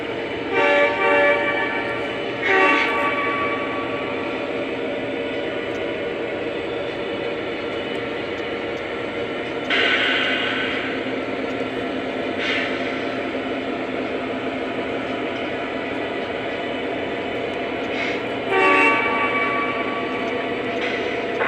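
A train rolls out with a steady, heavy rumble, punctuated by occasional louder clanks and surges from the cars.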